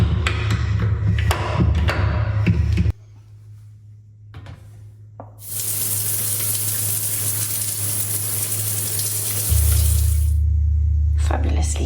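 Water runs briefly in a Hymer motorhome, then stops with a few knocks and thumps before a loud steady rush of hot shower water starts and continues to the end.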